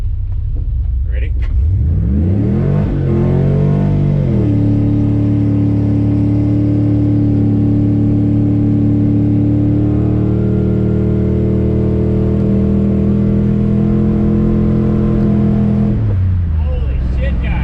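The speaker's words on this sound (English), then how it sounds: "that was the longest fucking power skid I've done in my life" A 5.3 LS V8 in an S15 hot rod truck revs up hard into a long power skid. The sweeping climb settles into a sustained, very loud, tonal roar with tire squeal for about twelve seconds before dropping back off.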